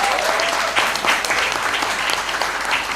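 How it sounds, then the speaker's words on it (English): A round of applause from the audience at a corporate anniversary celebration, loud and full, a crowd clapping vigorously and continuously from start to finish. "Give them a good round of applause."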